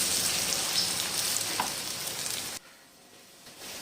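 Moong dal roasting in ghee for halwa makes a soft, steady sizzle and crackle in the pan, which suddenly drops to near quiet and then resumes faintly.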